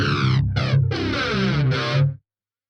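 An electric guitar recorded directly through a Vox ToneLab EX with distortion plays a brief riff of thick, buzzing chords in a few choppy stabs, then rings out and cuts off abruptly.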